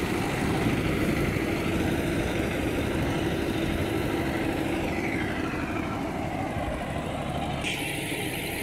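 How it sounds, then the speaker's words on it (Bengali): A John Deere 5050 D tractor pulling a rotavator through a muddy field drones with a steady, loud engine rumble, unbroken and constant at close range with no talk. "দুই জমির মধ্যে দিয়ে আমাদের পাওয়ার টিলার যাচ্ছে আর এখানে চাষ হচ্ছে"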